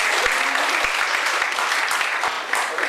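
Steady audience clapping fills the room, dense and continuous with a few sharper individual claps standing out, fairly near and even in level throughout.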